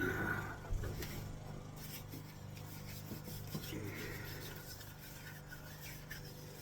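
A hand rubs a thick coat of oil into wood, a soft, quiet back-and-forth scrubbing friction repeated steadily, close up with no talk.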